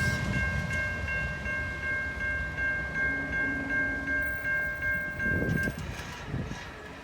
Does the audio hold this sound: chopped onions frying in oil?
no